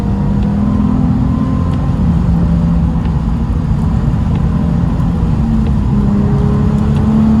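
Nissan 350Z with a Stage 1 tuned V6 engine runs loud and close, a steady deep drone with slight shifts in pitch rather than sharp revs, heard alone.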